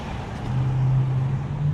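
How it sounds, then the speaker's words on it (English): A loud bus passes on a city street, its engine drone building to a steady low hum that holds to the end over a bed of traffic noise. "Oh my god, that bus is loud."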